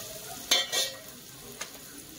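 Ginger-garlic paste dropped into hot oil for a vegetable dum biryani, a quiet low sizzle with a couple of brief bursts of spattering and a faint clink, no talking.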